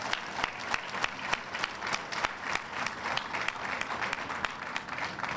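An audience at an airline press conference breaks into applause, a dense, moderately close burst of many hands clapping that continues evenly throughout, with no talking.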